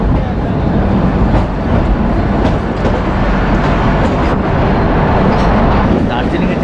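The Kalka–Shimla toy train, Shivalik Deluxe Express, entering tunnel number 10 on its mountain route, a loud continuous rumbling roar of wheels and carriages with faint rhythmic clatter, heard from inside the train.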